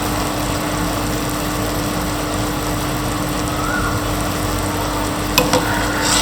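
A pot of clear Thai soup with tofu and minced pork boils steadily, a dense, even bubbling and hiss that fills the space close up, with a couple of faint clinks near the end.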